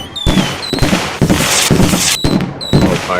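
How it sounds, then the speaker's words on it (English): Fireworks in the video game The Universim, a dense, loud barrage of crackling bursts and booms with whistling rising tones, continuous for several seconds. "Oh, fireworks."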